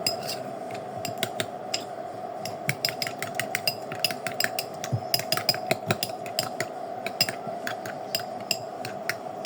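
A utensil beats eggs and salt in a bowl, making quick, close, irregular clinks and taps over a low steady hum.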